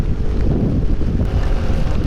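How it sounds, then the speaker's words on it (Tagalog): Heavy rain and strong wind of a storm buffet the microphone in a loud, constant roar, with deep, gusty rumbling and no clear pauses. "Lakas ng ulan"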